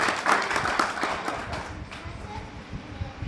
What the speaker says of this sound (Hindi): इनके नाम पर एक बार जोरदार ताली